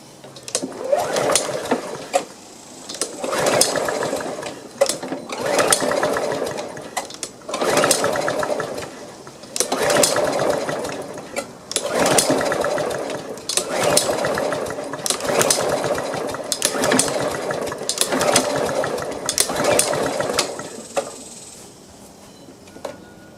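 A Snapper Ninja lawn mower engine being cranked repeatedly, about ten rhythmic cranking bursts with short gaps between them, close and loud, without catching.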